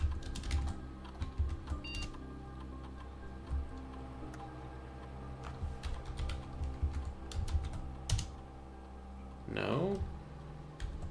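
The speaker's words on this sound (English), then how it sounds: "I guess I'll try typing in the other ones" Typing on a computer keyboard in the Blue Prince game, a run of light, irregular clicks close by over a low hum, with a brief whooshing sweep near the end.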